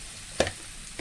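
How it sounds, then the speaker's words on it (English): Pounded garlic and dried chili drop into hot oil and burst into a sudden loud sizzle partway through, which then fades to a softer steady crackle. "I shall be using the same oil just to toast in some pounded garlic"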